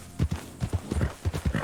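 Horse hooves clip-clop in Red Dead Online, a quick, steady run of close, even beats heard alone.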